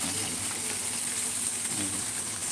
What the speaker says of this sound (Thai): เราก็จะมีนี่บริเวณนี้ครับก็จะเป็นน้ำตกครับ